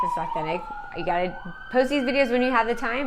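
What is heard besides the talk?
emergency vehicle siren passing outside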